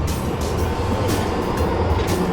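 A yellow tram rolls along a street in Dresden with a loud, steady low rumble of wheels and motor, close by, with faint street noise behind it.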